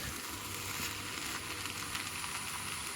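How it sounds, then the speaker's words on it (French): Peppers and onions for eggplant and lamb lasagna softening in a pan, a soft, steady sizzle and crackle throughout, fairly quiet, with no talking. "pendant que les poivrons et les oignons sont en train de cuire tranquillement"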